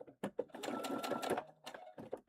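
A sewing machine stitching in short bursts, running steadily for about a second and then stopping and restarting in brief pulses, close up and fairly quiet, with no talk.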